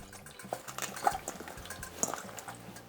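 Water drains and trickles from salted radish set to strain for kimchi, a soft close splashing and dripping with faint clinks of kitchenware.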